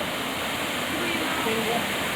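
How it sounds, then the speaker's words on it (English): A magnificent waterfall in Wales roars as a steady, dense broadband rush, loud and unbroken throughout, with no clear voices over it. "it truly is a magnificent waterfall"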